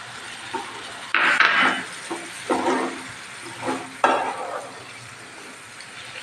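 Tomatoes go into a pan with greens stems and are stir-fried, making several short bursts of scraping and stirring against the pan over a soft, steady sizzle.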